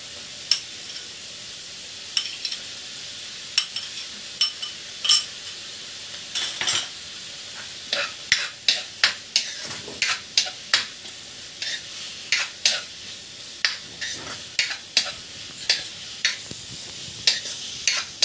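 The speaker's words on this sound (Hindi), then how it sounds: "अब इसमें डालूंगी हम टमाटर" Tomatoes sizzle in a home-cooking pan while a utensil scrapes and taps against it, regular clinks over a steady soft frying hiss, close by and without talk.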